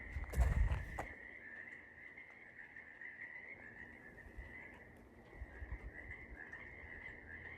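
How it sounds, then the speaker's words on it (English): Frogs croak loudly from a backyard pond, a steady dense chorus running throughout, with a brief louder rumble near the start. "I just want to have you listen to the frogs for a minute."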